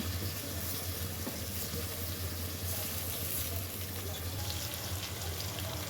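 Eggplant slices frying in a pan with garlic and ginger paste and whole spices, a steady dense sizzle heard close, with a low hum beneath.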